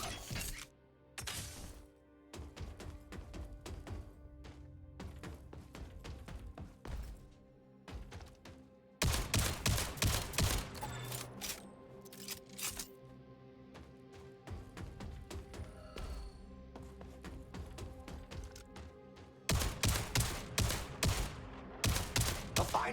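Gunfire in the video game Jump Ship, with bursts of rapid shots and scattered single cracks, loud and near, broken by quieter gaps and a few thuds.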